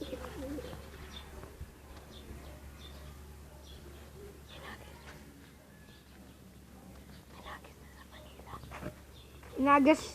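Young pigeon chicks coo and chirp softly in a loft, faint and close, under low murmuring voices, with a sharper, louder call breaking out near the end.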